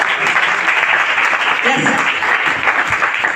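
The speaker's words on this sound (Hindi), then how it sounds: "एक बार इनके लिए जबरदस्त ताली होनी चाहिए।" A seminar audience in Ludhiana, Punjab applauds, a dense, steady wash of clapping from many hands filling the room, with a voice faintly audible underneath.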